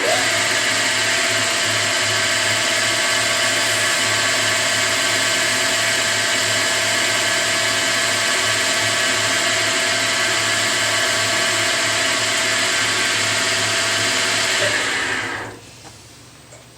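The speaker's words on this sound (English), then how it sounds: "So I'm just going to spin it at the 900 RPMs where it was before." A lathe runs a part at 900 RPM for Scotch-Brite finishing on an inner adapter, giving a loud, steady whine with a constant hum. It keeps on unchanged for about fifteen seconds, then winds down quickly near the end.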